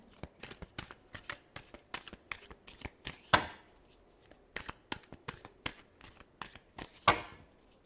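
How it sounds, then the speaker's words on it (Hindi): A deck of tarot cards riffled and shuffled by hand, with quick crisp bursts of card flutter repeating at a steady rhythm, fairly quiet and close, with two sharper snaps. "last shuffle"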